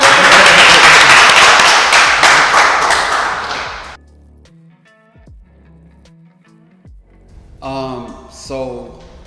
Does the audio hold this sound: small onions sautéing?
no